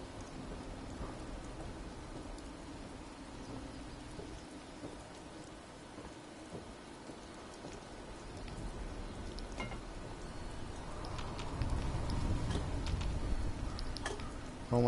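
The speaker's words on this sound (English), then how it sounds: "I don't like this storm." Rain falls steadily with low rumbling thunder building toward the end in a thunderstorm in the Fallout 1776 video game, a soft continuous wash with no talking.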